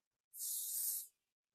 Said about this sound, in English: don't curl until you put hair protectant spray.